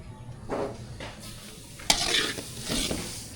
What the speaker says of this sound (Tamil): கேசரிக்கு நெய்லே ரவா அதுக்கு எடுத்துக்கலாம்